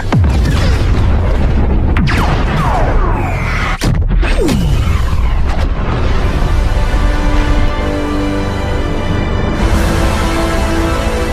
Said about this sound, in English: The gun is charged and ready to fire.